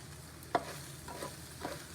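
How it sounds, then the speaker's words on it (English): Small precooked sausages frying in a pan for a meat sauce, giving a quiet broadband sizzle with a few soft scraping knocks of stirring, and no one speaking. "we're just going to fry these up a little bit."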